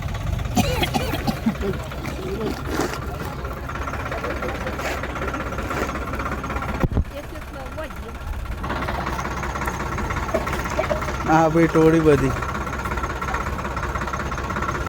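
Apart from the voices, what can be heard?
tractor engine idling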